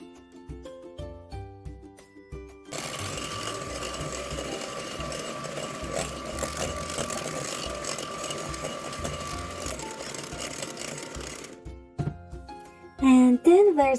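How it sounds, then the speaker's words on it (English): An electric hand mixer whirs steadily for about nine seconds as it beats sugar into chocolate cake batter, following soft background music and ending with a brief voice. "then we'll mix it with our hand mixer"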